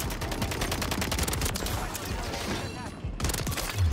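Rapid burst-fire gunfire from a Rival 9 weapon in the video game Modern Warfare 3, dense and continuous throughout with overlapping game sounds and voice chat mixed in, ending in a heavier low thump.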